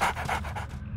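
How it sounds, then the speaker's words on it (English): A dog pants rapidly and close by, a quick run of about five rhythmic breaths over a single second, clear and alone. "Stupid dog."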